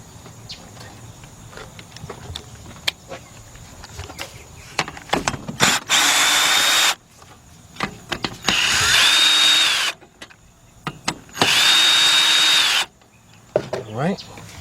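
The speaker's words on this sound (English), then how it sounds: "Then I'm gonna hook up my cordless gun." A cordless impact gun fires three loud, sustained bursts during a timing belt and water pump job on a Kia or Hyundai V6, with clinks and handling noises from the shop between bursts.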